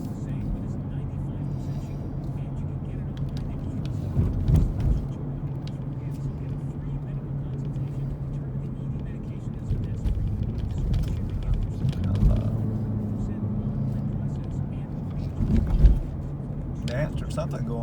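Car driving along a road through downtown Knoxville near the University of Tennessee, with a steady low engine and road hum running throughout beneath someone talking.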